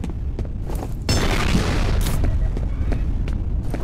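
A grenade blast in F.E.A.R. combat, heavy rumbling roar surging in over ongoing battle noise with scattered sharp gunshots, loud and dense, the boom trailing off into continued crackling fire.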